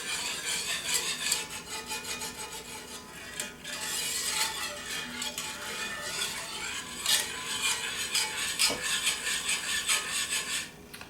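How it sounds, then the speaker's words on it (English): A whisk scrapes and rattles through a lumpy mixture for chicken pot pie, a continuous close rubbing and clinking of metal against the pot, fairly quiet. "So you whisk it until it's all dissolved."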